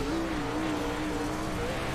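Race car engine roaring steadily in an iRacing dirt series crash replay, a continuous loud drone with a wavering pitch that runs the whole moment, plus faint tire noise and no clear impact.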